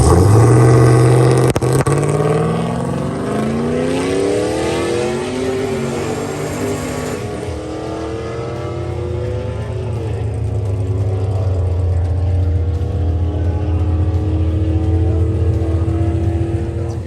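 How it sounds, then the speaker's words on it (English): A third-generation Pontiac GTA drag car launches hard down the strip, its engine screaming loud and near with a rising roar, then holding a steady high drone as it pulls away. "Nate Bender, third gen GTA Pontiac, pushing its front tires through the beams"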